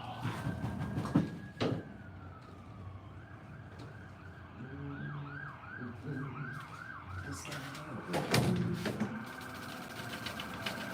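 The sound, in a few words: ambulance siren passing by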